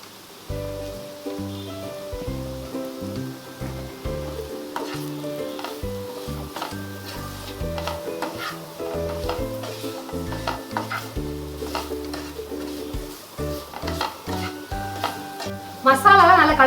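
Masala being stirred through a green plantain stir-fry in a pan gives a soft continuous sizzle with scraping strokes under background music, ending in a brief louder clatter.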